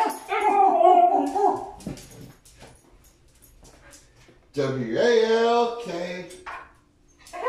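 A pet dog howls and whimpers in two long, near, wavering bursts separated by a quiet gap, with a person's brief word in between.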